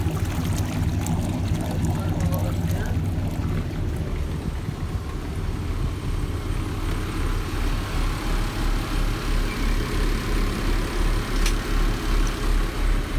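Two Yanmar 6LPA marine diesel engines idle on a boat, a steady low rumble with a rhythmic pulsing throb and splashing water, no clear talk.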